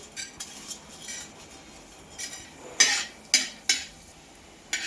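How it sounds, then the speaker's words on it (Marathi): Dry dal roasts in an open pan for vadya rashi: light scraping and clinking of the spatula, then several crisp metallic taps near the end, with no sizzle. "आता डाळ भाजून घेऊ"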